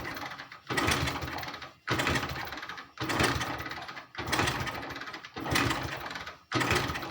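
A Hero Splendor BS6 motorcycle with a fuel pump injector and current fault is kicked over repeatedly while a test bulb is wired in. Six loud mechanical bursts of about a second each are separated by brief silent gaps.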